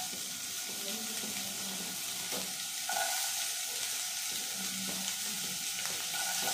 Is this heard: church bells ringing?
no